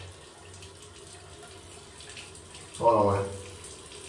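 Tap water runs steadily at a sink during rinsing off, a soft continuous flow that turns briefly louder and splashier near the end as someone speaks over it.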